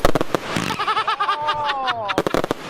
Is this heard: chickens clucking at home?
no